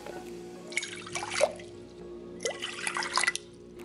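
Water pours into a bowl for a cauliflower batter in two short splashing bursts with gurgling and dripping, close by and moderately loud, separated by a quiet gap; no talking.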